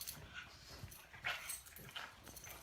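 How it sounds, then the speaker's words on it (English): A pet dog shuffles and paws around on a couch, knocking at pillows, with soft rustling, thumps and faint whimpering sounds close by, no talking. "watch my psycho dog trying to knock all the pillows off the couch"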